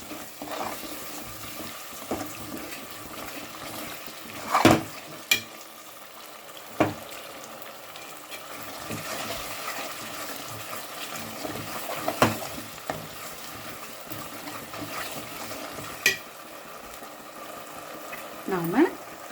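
Carrot halwa frying in a pan as ghee is poured in and stirred, with a steady soft sizzle, scattered clinks and scrapes of the spoon against the pan, and a voice talking quietly at times.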